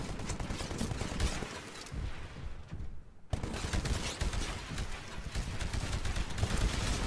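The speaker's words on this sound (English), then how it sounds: "Destroy the Titan with your anti-Titan weapon." Anti-Titan weapon fire in the video game Titanfall during pilot training, loud dense bursts and booming impacts filling the mix, with a brief dip in the middle before the barrage resumes.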